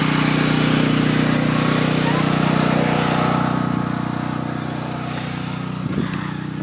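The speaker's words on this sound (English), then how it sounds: "Then fire up the generator." A homestead generator, started for a camper's batteries, runs with a loud, steady engine drone that eases slightly toward the end.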